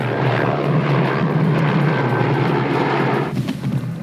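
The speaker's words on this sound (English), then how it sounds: "we have a helicopter sighting" A helicopter flies over Kangerlussuaq, Greenland, a steady loud rotor and engine drone holding for several seconds before briefly dipping and turning rougher near the end.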